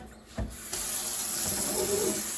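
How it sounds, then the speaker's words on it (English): Water running from a kitchen tap while cooking Thanksgiving food, starting with a brief splash and then flowing in a steady, close, continuous stream, with no talk over it. "Water."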